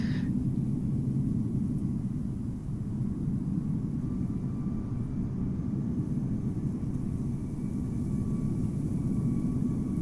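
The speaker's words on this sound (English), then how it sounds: "Here comes the Air France A320 from Paris Charles de Gaulle." Air France A320 airliner arriving in Microsoft Flight Simulator at Amsterdam Schiphol in cloudy weather, a steady low jet rumble and roar sustained throughout at moderate loudness with no talk.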